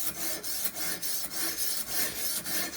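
Steady rhythmic scraping of a knife blade stroked back and forth across a Ruixin Pro RX-009 sharpener stone, close and loud, with about six even rasping passes and brief pauses at each turn.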